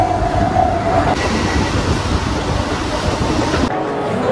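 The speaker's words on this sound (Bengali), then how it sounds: "চলে এলাম হাওড়া স্টেশনের 1 নম্বর প্ল্যাটফর্মে, ট্রেন ঢুকিয়ে দিয়েছে" Train rolling into platform 1 at Howrah station, a steady loud rumble of rail wagons with a brief tonal squeal early on, continuous throughout with no talking.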